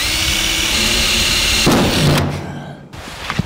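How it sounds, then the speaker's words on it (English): A power drill bores 3/8 inch pilot holes in a metal bracket for a 1949 Chevrolet master cylinder mount, whining loudly and steadily, then shifting pitch before winding down with a few clicks. "We can now drill pilot holes for our 3/8 inch bit."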